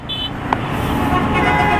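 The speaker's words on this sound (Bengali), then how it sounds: "সবাই শুধু পিছন থেকে হর্ন দেয়" A car horn toots briefly in dense road traffic behind a motorbike rider, over a steady rumble of engines and roadway noise, with a few higher horn tones sounding near the start and end.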